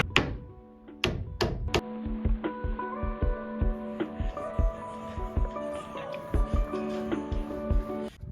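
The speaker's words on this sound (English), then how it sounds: "we've gotta do some nailing, as you can hear Dan up there" Nails hammered into a wooden roof of an off-grid home under construction, a fairly steady run of sharp knocks and thunks at moderate distance over a faint tonal background.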